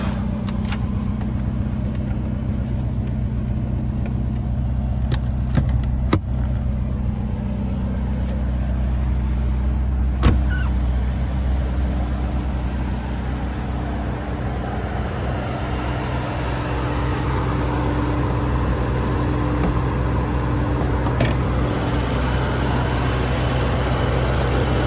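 A 2015 Ferrari California T's 3.9-liter turbocharged V8 runs at a steady idle, a low, even hum that holds throughout, broken only by a few faint clicks and no voices.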